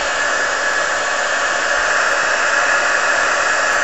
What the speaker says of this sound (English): I got the heat tool going.